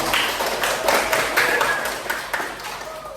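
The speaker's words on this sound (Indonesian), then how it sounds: "Kasih aplaus dulu untuk kelompok 1" A classroom group applauds together for a peer-teaching presentation group, a dense, steady patter of many hands clapping at close range for the whole moment with no talk over it.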